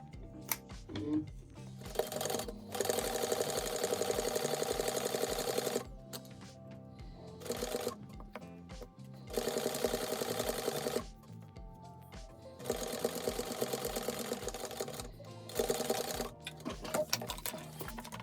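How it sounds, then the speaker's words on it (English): A sewing machine stitches the lining seam of a handbag, running in loud, steady bursts of rapid mechanical chatter separated by short pauses. "now I'm going to sew this at the seam allowance"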